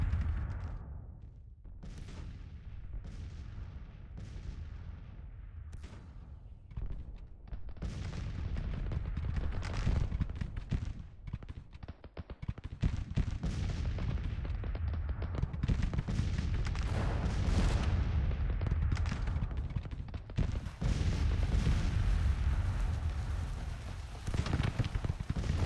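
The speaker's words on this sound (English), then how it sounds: "That artillery is fucking disgusting." Artillery fire booms across a Civil War strategy game battlefield: repeated heavy cannon blasts and crackling volleys, dense and continuous throughout, with no voices.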